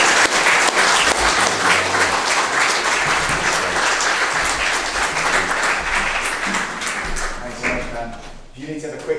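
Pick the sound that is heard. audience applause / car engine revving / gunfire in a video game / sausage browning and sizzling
audience applause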